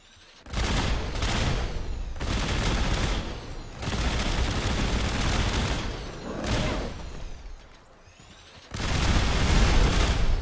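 A minigun loaded with Gauss rifle ammo firing in Fallout 4, several long sustained bursts of rapid loud gunfire separated by short pauses, close and dense, with mechanical whine between bursts and no speech.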